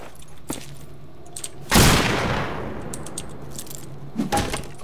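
A single loud shotgun blast in the Western shooter game Fistful of Frags, sharp and close with a long decaying tail, set among faint clicks and small handling noises.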